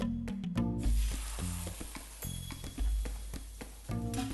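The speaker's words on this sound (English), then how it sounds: "Let me get some olive oil into this hot pan. And let's add our filet skin side down." Fish fillet laid skin side down in hot olive oil, sizzling faintly in the pan with soft clinks and scraping stir sounds.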